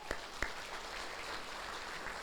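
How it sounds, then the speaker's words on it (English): An audience at an electric cooperative's annual meeting claps together in a room, a steady wash of applause at moderate volume with a couple of sharper individual claps at the start. "Let's give them a round of applause."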